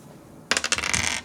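Dice are dropped onto a hard surface in a classroom, producing a quick burst of clattering rattles and bounces that starts abruptly after a brief quiet moment.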